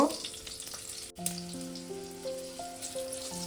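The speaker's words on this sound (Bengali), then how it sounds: "কাঁচা লঙ্কা ফোড়নে আর 5 ফোড়ন দিয়ে একটু নাড়াচাড়া করে নেব।" Green chillies and panch phoron spices tempering in hot oil, a close, quiet frying sizzle with a brief gap, then a soft crackle and faint stirring, with no speech.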